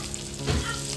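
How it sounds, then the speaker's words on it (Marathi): Marinated surmai (kingfish) frying on a very hot tava, a steady close sizzle that swells briefly in the middle of the second, with no talking. "त्याला मस्त आपली सुरमई फ्राय झालेली आहे. मॅरिनेट झालेली आहे. आता दीदी फ्राय करते. तवा पण एकदम तापलेला मस्त."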